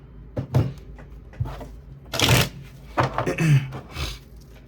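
Tarot cards shuffled and drawn close by, with soft slaps and a couple of bursts of riffling and sliding card noise at an uneven pace.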